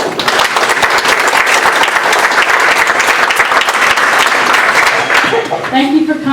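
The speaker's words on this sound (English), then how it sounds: "So give them a round of applause." Loud, close applause from faculty attendees welcoming presenters at a teaching workshop on digital classroom tools: a thick, even burst of many hands clapping that tapers off as a voice starts talking.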